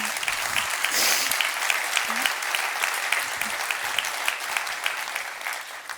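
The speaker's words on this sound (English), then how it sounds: "And I want the team back home to receive that applause." Audience applause after a talk about Signal and the tech business model, steady and fairly close, sustained evenly for several seconds with no talk over it.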